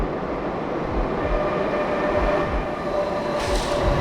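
A subway train rolling into a station, a steady loud rumble with rhythmic wheel clatter and a brief high screech near the end, no voices.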